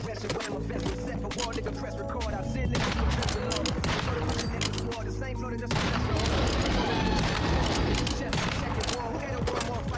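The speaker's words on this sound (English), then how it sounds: "if I use this sniper rifle, each one of these things explode on one hit" Sniper rifle fire and explosions in the video game Once Human, heard as a dense run of sharp cracks and booms that keeps going with little pause, loud and close, with a heavier blast partway through.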